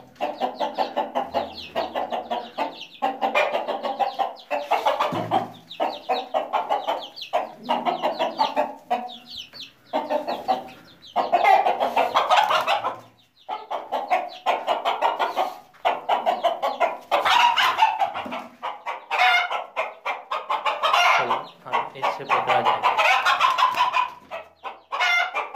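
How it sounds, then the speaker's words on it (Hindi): Chickens cluck and squawk continuously and close by while a rooster is being caught, with agitated bursts of flapping-like noise and loud alarmed calls throughout, no talking. "तो मुर्गे को हमने पकड़ लिया"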